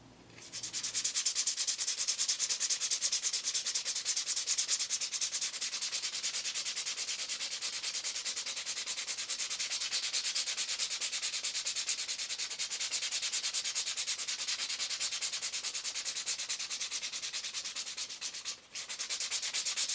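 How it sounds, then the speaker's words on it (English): Sandpaper rubs steadily across a soft plastic gizzard shad swimbait, a continuous close scratchy hiss of rapid strokes lasting throughout with one brief pause near the end. "finish everything off with some sanding paper"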